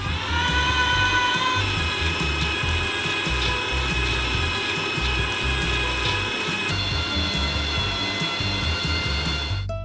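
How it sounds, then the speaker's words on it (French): An electric meat grinder fitted with its finest plate grinds nuts for a giant Kinder Bueno, giving a loud, steady motor whine that runs unbroken and alone before cutting off at the end. "Mettez-les dans un hachoir à viande."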